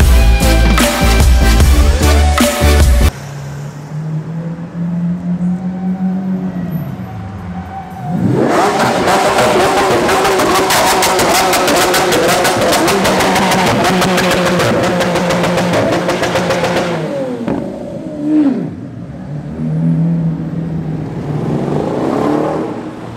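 A Lamborghini engine revs hard, with deep loud bursts and a long high-pitched roaring run in the middle, then drops to a lower idle between revs.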